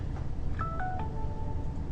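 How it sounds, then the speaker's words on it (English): A mobile phone's reminder alert sounds in a lecture room as a short run of clear electronic tones, a few stepped beeps ending in a held note, over steady room hum. "I'm sorry, that's my phone."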